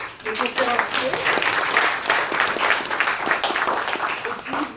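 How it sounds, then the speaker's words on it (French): Audience applause for the speakers at a round-table discussion on African universities, steady clapping filling the room with some voices murmuring underneath throughout. "je pense qu'on peut applaudir nos conférenciers."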